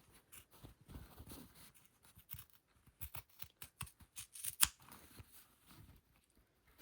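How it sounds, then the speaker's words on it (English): Sharp scissors snip through fabric toward the corner of a single welt pocket, a run of quiet close crisp cuts in irregular bursts with brief pauses. "I like to use some really sharp scissors for this"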